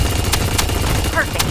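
Gunfire in the mecha shooter game Super Mecha Champions: three sharp, separate shots spaced unevenly over a steady, loud game background hum.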